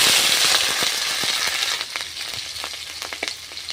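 Cumin seeds and chopped ginger sizzle and crackle in hot oil, a steady bright frying hiss with scattered sharp pops that eases off slightly toward the end, with no voices.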